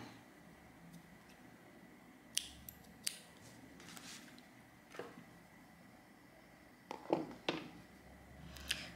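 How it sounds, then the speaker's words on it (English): Scissors trim yarn after a crocheted row of a cardigan, a few quiet, crisp snips and clicks scattered across a hushed room, faint and close, no voices. "Then I'm gonna trim the yarn here."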